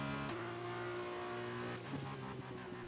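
A race car engine in F1 2021 holds a steady high whine, then the pitch dips and rises again as it shifts or strains, continuous and fairly loud without voices.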